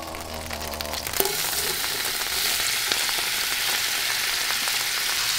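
Figs frying in hot oil in a pan, a dense, steady sizzle that swells after a brief clatter near the start and then holds loud and close with no speech.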